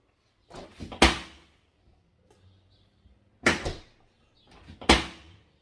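Three sharp thuds of a worn-out refrigerator door being swung and shut, each preceded by a brief rustle, close by with quiet gaps between.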